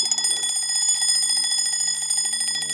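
A vintage Westclox Baby Ben wind-up bedside alarm clock rings loudly and close, a rapid metallic bell rattle pulsing in fast, even bursts without pause.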